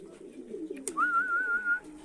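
Pigeons being given water coo in a low, soft murmur, cut by a sharp click and then a clear, sustained whistle-like note close by.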